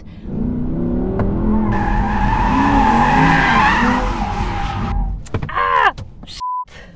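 An Audi R8 RWS drifts on a half-wet track, giving a loud, sustained tire squeal with engine drone for about five seconds, followed by a few short skids and clunks.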